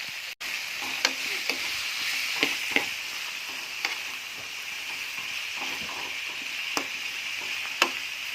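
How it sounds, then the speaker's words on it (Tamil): Ingredients for a chicken curry sauté in a pan until golden brown, giving a continuous close sizzle broken by scattered clicks and scrapes of stirring. "லைட்டாக இது கோல்டன் ப்ரௌனிஷ் கலரில் வர வரைக்கும் நம்ம லைட்டாக வதக்கிக்கணும்"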